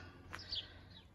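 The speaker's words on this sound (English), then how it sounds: "Listen to the beautiful birds, look at the nature, and look at the Trooper Hills." A single bird chirps briefly on a morning walk at Troopers Hill in Bristol, England, a short faint call over quiet outdoor background.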